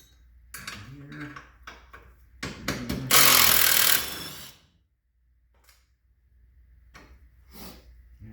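Firm metallic knocks and clatter come from a soft-faced hammer tapping a lower control arm while high-clearance arms go on an ATV in a garage. Bursts of work noise and a loud scraping rush are followed by quiet and soft handling.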